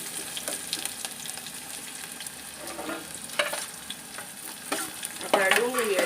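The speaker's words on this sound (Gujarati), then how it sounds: "હવે ડુંગળીનો વઘાર કરશું." Onions sizzle and fry in hot oil with cumin, tempering for a masala sandwich filling, a steady close crackle with stirring scrapes that grows louder near the end.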